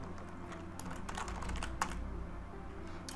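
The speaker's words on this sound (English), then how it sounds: "And then I'm going to type some text here." Steady typing on a computer keyboard entering text, rapid soft key clicks with an occasional louder stroke, close and quiet with no talking.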